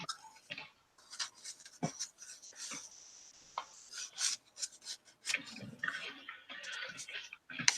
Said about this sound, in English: And trim it off.